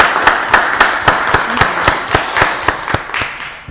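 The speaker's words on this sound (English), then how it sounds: "let's give Commissioner Washington another round of applause" Steady, rhythmic applause at a Rockdale County Board of Commissioners meeting: close, crisp claps landing at an even pace for a few seconds, with no talking over them.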